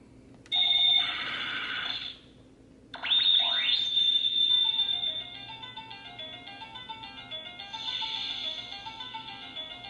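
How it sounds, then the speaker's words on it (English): Sailor Moon Proplica wand toy plays its Moon Healing Escalation effect: bright electronic chimes and ringing tones, a pause, then a rising swoop into a bouncing melodic tune with sparkling bell flourishes, clear and close. "I'm going to do the short press sound, which is going to be the moon healing escalation"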